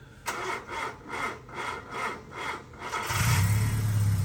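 A 1996 Honda Civic VTi with a PH16A engine turns over on its OEM non-reduction starter, giving about six slow, even cranking pulses before it fires and settles into a loud, steady idle, heard up close.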